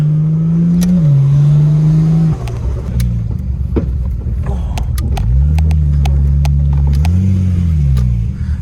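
Car fitted with an RB30 turbo engine idling nearby, a loud steady drone that rises and falls with light revs, accompanied by scattered clicks and knocks, with no talk over it.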